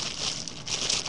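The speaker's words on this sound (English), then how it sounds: "I have them tied up in a plastic bag." A short burst of close plastic bag crinkling, crisp and rustly, continuing unevenly for about a second with no voices; the bag holds tied-up fabric.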